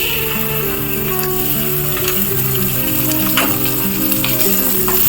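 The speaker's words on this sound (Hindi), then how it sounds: "अच्छे से पकाना है इसे, जब तक इसका स्मेल नहीं चला जाए" Onions fried light brown with ginger-garlic paste sizzle in a pan for mutton kheema, a continuous close crackle with faint stirring scrapes and no talk.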